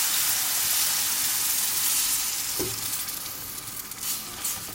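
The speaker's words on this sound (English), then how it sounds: "You're going to toast off that flour for just a minute. And you can't stop mixing when you're making gravy." Flour sizzling and being stirred steadily in a hot pan for Southern tomato gravy cooked at camp, a loud continuous frying hiss with a brief scrape of the spoon.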